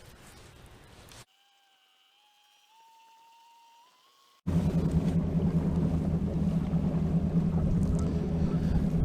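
A fishing boat motors across Lake Harding in winter while scanning for bass, its engine a steady, loud rumble that fills the second half after a quiet stretch with faint electronic tones.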